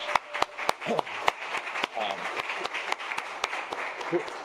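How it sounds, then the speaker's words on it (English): Audience at a talk on affordable housing in New Jersey giving a round of applause, scattered sharp claps from a modest crowd mixed with murmured voices and talking. "I'm going to give her a round of applause."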